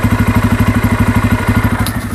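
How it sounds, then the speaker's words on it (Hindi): A 2024 Bajaj Pulsar N250 single-cylinder motorcycle idles up close, its engine giving a steady, rapid, even thumping pulse throughout with no voices. "मैं स्टार्ट करके भी सुनाता हूँ। स्टार्टिंग का भी साउंड जो आ रहा है वो बहुत ही अलग सा आ रहा है।"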